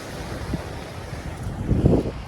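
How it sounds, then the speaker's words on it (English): Breezy wind gusting across the microphone on the Newport cliff walk, with ocean waves washing below, as a steady roar that swells briefly. "But it's so breezy and overcast and just beautiful. I mean, I'm in heaven."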